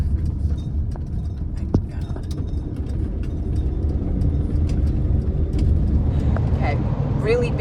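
Steady engine hum and road rumble inside a moving camper van on an outback Queensland road, a loud continuous drone with occasional knocks and rattles.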